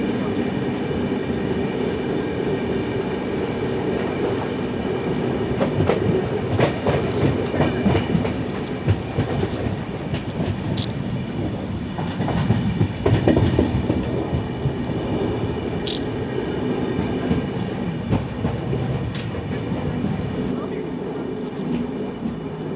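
A Jan Shatabdi express train rolls along rails between Shoranur and Thiruvananthapuram, with a continuous loud rumble and rhythmic clickety-clack of wheels over rail joints, swelling at moments as the carriage rattles.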